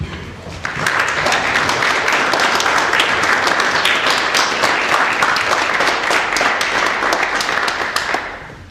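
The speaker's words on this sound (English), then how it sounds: "let's give our new Eagle Scouts one more round of applause" A large crowd at an Eagle Scout Court of Honor applauds continuously, dense clapping starting abruptly and holding steady for several seconds before tapering off at the end.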